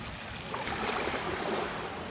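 Sea waves wash steadily at a beach, a continuous broadband surf roar with gentle swells and a slight rise in the middle, close and fairly loud with no voices.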